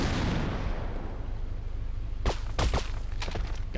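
A grenade goes off in the Brutal Half-Life shooter game: after a stretch of low ambient rumble come several sharp, loud blasts in quick succession near the end.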